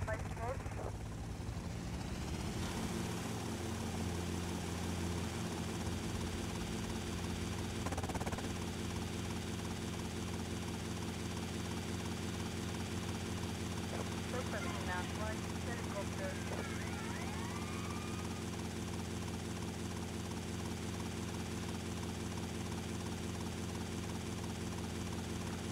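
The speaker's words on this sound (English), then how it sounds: "there's two helicopters right now" A helicopter flies in the video game GTA Vice City, its steady rotor and engine drone filling the whole stretch while someone talks over it.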